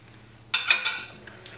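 A short burst of scraping and clinking as a utensil mixes chicken fillet with a spoonful of starch in a bowl, lasting about half a second amid quiet.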